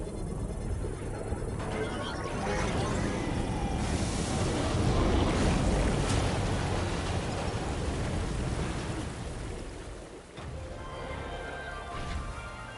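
Water gushing from an underground spring in the Death Stranding 2 video game, a steady broadband rush with a swell in the middle and softer rushing toward the end, without speech.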